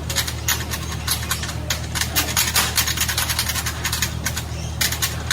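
Green paint is scraped off a Junkers Ju 87B Stuka model with a hand tool, giving rapid repeated rasping strokes, close and fairly loud, over a low steady hum.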